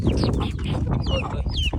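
A rooster clucks and calls near a coop as it steps outside, close and fairly loud, with short chirping clucks and a few rising squawks over a rough outdoor background.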